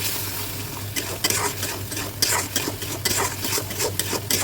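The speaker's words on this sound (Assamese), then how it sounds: "এইখিনি এতিয়া মই ভালদৰে একদম 15 মিনিটমান ভালদৰে ভাজিব লাগিব মছলাখিনি।" Mustard seed fish-curry masala frying in an iron kadai, a close, loud sizzle broken by repeated rhythmic scraping strokes of a spatula stirring the paste against the pan.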